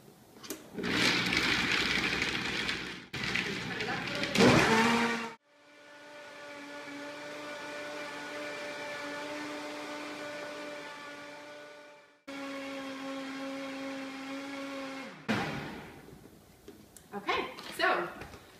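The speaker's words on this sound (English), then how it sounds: "We're all done blending now. We can see that the Vitamix did a really good job breaking down the cell walls of the kale." A Vitamix blender whirs through a kale green smoothie, a steady high motor drone that holds for several seconds between bursts of louder, rougher blending and brief stops.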